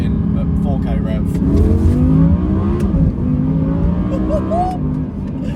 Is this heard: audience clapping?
no